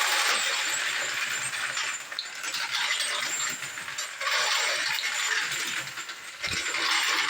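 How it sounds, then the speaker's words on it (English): Hornady case feeder running with 45 ACP brass cases, a continuous dense metallic rattling and clinking of tumbling brass with a whirring mechanism, close and loud, steady throughout with small surges. "So I'll dump a few rounds of 45 ACP in the brass feeder. We'll turn that on."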